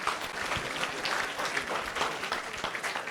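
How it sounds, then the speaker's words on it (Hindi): Hearty applause from a large audience of parents and students at a memory-training event in a wedding hall, a dense, even roar of clapping held steadily throughout. "सारे वालिदैन के लिए एक बार जोरदार तालियों के साथ में"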